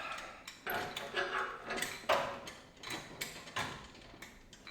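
A striping kit on a John Deere 930M mower is rolled up, giving faint metallic clunks, ticks and short sliding rattles at uneven intervals close by.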